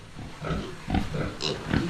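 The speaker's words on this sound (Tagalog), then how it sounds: "mga buhay naman po yung ating baboy" Pigs on a farm in the Philippines, left out in cold weather after a typhoon, grunting and oinking in short repeated bursts close by, over steady background noise.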